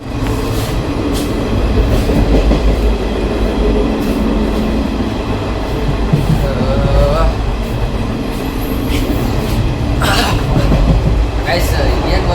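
Interior of a moving passenger train on a trip from Tumkuru toward Tamil Nadu, a loud constant rumble of wheels and carriage with faint squeals, and people talking over it.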